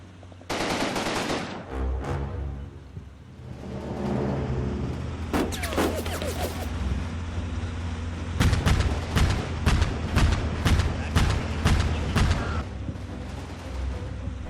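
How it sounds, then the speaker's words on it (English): Anti-aircraft guns firing at vehicles and fortified positions in a Combat Mission Kaiserreich battle, heavy automatic bursts and booms rolling over a continuous battlefield rumble, loud and dense. "Entente uses anti-aircraft guns to destroy vehicles and fortified positions."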